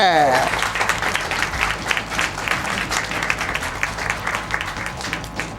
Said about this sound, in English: Round of applause for doing it.